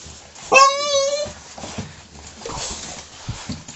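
Dogs let out a high, wavering whimper up close, then give softer yips and muffled noises amid people moving and speaking briefly in the background.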